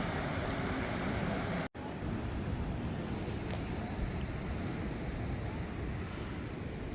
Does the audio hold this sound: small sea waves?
yes